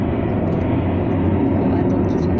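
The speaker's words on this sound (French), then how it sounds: "Un avion qui passe." An airplane passes overhead as a steady, broad low roar that fills the whole stretch without fading.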